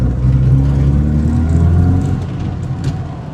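A Volvo 240 drives and accelerates, its mid-pitched engine droning loud and steady close by, easing slightly toward the end, with no talk over it.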